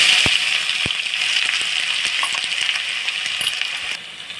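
Sliced onions dropped into hot oil with mustard seeds and fenugreek for a sardine fish curry, a loud close steady sizzle with a few sharp pops and crackles, easing slightly toward the end.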